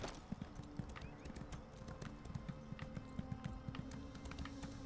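Horse hooves clip-clopping in the video game Elder Scrolls Online, a quick steady rhythm of light hoof beats at a trot, fairly faint and continuous with no talk over them.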